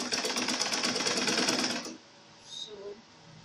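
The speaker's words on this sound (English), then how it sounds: "I'm going to put it on my sewing machine, then I'm going to sew down" A sewing machine runs fast for about two seconds, rattling densely as it stitches down a dart on an A-line skirt, then stops, leaving only faint handling sounds.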